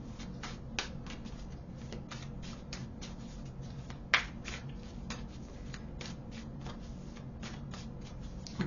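Tarot cards are shuffled continuously in the hands, a quiet, rapid, close riffling and flicking with a few sharper snaps scattered throughout, no one speaking.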